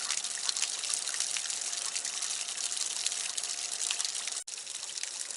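Steady hiss of water running out of a travel trailer's plumbing during de-winterizing, a continuous broadband rush that holds for several seconds with one brief dropout near the end.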